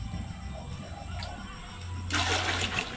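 Water being poured off settled cassava starch sediment, a broad splashing gush that starts abruptly partway through and runs loud to the end, preceded by quieter background noise with a low steady hum.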